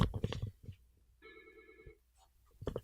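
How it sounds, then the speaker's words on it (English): A desk telephone rings on its own for about a second between stretches of talk, a bright electronic trill in a quiet room during a software demonstration. "Oh, let me pause that phone."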